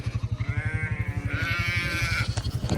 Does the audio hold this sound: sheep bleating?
yes